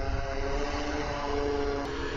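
A fishing drone's propellers whir with a steady, dense buzz as it flies itself back to land automatically, close and constant throughout with no talk.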